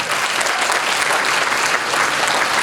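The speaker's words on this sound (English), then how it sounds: "Let's give them a round of applause." Audience at a university Africana graduation celebration giving a loud, sustained round of applause, dense clapping from many people with no voices over it.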